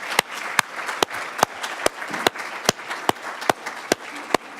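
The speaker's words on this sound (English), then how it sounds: "please a warm round of applause for all of our wonderful speakers here" At a speaker series anniversary celebration, a crowd gives a round of applause, a soft continuous patter punctuated by loud, evenly spaced single claps from someone close by, roughly two per second.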